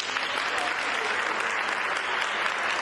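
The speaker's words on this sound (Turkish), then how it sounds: "asılsız ihbara giden polisleri hastane çalışanları alkışlar ile karşıladı." Hospital staff give police officers a dense, steady round of applause, many hands clapping together close by and keeping up the whole time.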